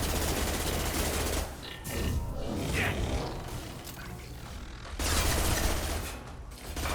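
Rapid automatic weapon fire in Mass Effect Legendary Edition: dense, continuous rattling bursts, loud and close, in two long stretches separated by a short lull filled with mechanical clatter.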